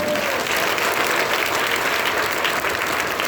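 Sustained, dense applause from a large crowd at a political rally in a hall, loud and steady throughout with no pauses.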